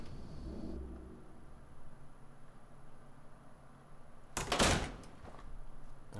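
Door opening in the Fallout 4 video game: a faint mechanical hum and low rumble give way to a sudden loud hiss-and-clunk burst near the end, with no talking.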